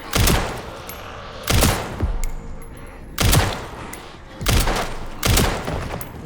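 Gunfire in the video game Resident Evil Requiem, five loud sharp bursts of shots spaced about a second apart, each with a short booming tail, heard close and with no voices over them.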